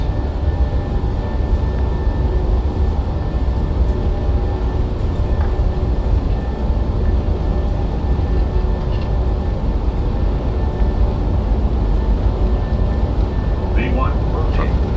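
Boeing 737-700 jet engines roar steadily at takeoff thrust in a flight simulator, a dense continuous low rumble with a faint whine that stays loud and even throughout, while people talk over it.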